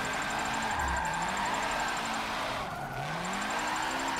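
A car brakes hard in Forza 7, its tires squealing in long, sliding tones over a steady engine drone, loud and close with no voices.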